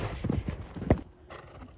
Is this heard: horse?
yes